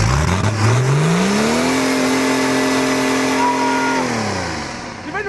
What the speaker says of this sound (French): Il va nous casser le moteur avant de jouer